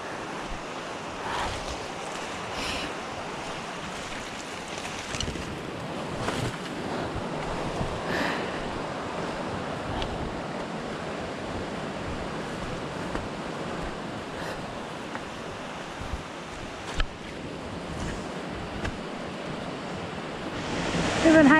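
Makaleha Falls on Kauai, Hawaii, rushes in a steady, broadband roar of falling water, loud and constant, with occasional gusts of wind buffeting the microphone.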